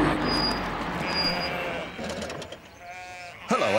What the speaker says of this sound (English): I'm just putting these sheep back where they belong.